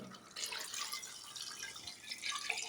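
Water poured onto rice while making chicken biryani, a steady hissing, trickling stream at moderate level with no speech over it.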